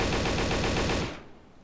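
Rapid automatic AK rifle fire in the game Darkest Days, a loud steady stream of shots that cuts off abruptly after about a second, leaving a short fading tail.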